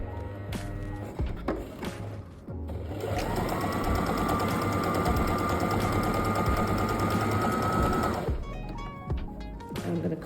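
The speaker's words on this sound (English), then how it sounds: "So I'm going to choose a zigzag stitch." A household sewing machine runs a zigzag stitch at a steady fast pace, a close, rhythmic mechanical whirr lasting about five seconds, bracketed by handling clicks and knocks before and after.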